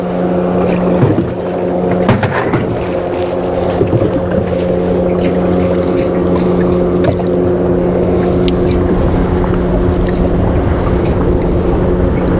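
Wind gusts across open water, a steady loud rumble and buffeting against the microphone over a constant boat motor hum, with a few knocks near the start.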